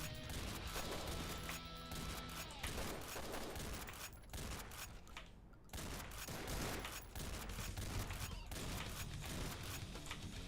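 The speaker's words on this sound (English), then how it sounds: "heavy machine guns" Heavy machine gun fire in the game Madness Interactive Reloaded: dense, continuous bursts of rapid shots and crashing impacts filling the clip, with only a brief lull midway before the firing resumes.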